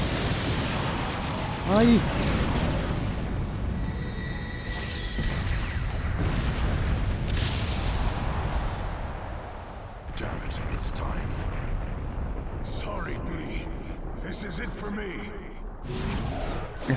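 Explosions in the Naruto Shippuden: Ultimate Ninja Storm 4 video game come as repeated booming blasts and crackling bursts over a continuous game soundtrack, while a player talks excitedly over them.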